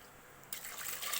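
Cooking water poured into a pot of idli sambar made without lentils, a soft trickle that swells into a steady splashing pour partway through, close by and alone.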